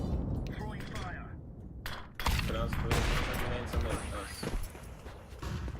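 Video game gunfire during a competitive match, bursts of rapid shots and cracks building after a brief lull, with a caster's voice talking over the action.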